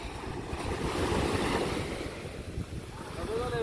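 Waves roll and break on a beach under a constant, broad roar while wind buffets the microphone, loud and close throughout with only slight swells in intensity.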